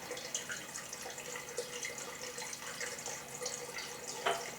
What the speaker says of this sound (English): The water's warm that come out of the faucet